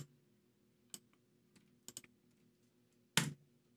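Terminal commands are typed on a computer keyboard in a quiet room, with a few sparse, isolated key clicks followed by a louder cluster of keystrokes near the end, and no voices.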